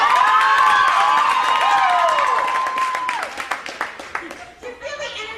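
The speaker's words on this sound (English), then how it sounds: "if you're not a parent, I'd like to hear you by a round of applause" Live comedy show audience breaks into loud applause and cheering from a large crowd, strong and sustained at first, then thinning into scattered claps and shouts.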